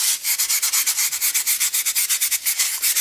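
Rhythmic rasping strokes of sanding or rasping material off a climbing hold being shaped, a steady back-and-forth scrape repeated about eight times a second, close and fairly loud with no voices.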